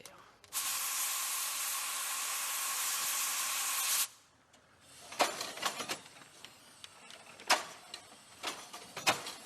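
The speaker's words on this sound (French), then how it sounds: "après 40 minutes de chauffe, la magie de la vapeur opère" Steam hisses loudly and steadily for about three and a half seconds from a wood-fired, steam-powered fardier wagon, then cuts off, followed by scattered clanks and ticks from the machine.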